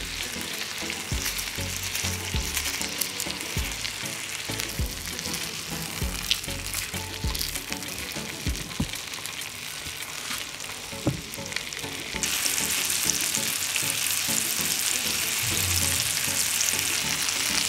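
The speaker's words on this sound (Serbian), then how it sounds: "I beli luk okrećem ovako na ove isečene polovine i ostavljam da se prži zajedno sa mesom" Meat sears in a pan alongside halved garlic cloves, giving a dense, continuous close sizzle with frequent crackles and spits that grows brighter and more intense toward the end, with no one speaking.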